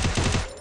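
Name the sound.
gunshots in a video game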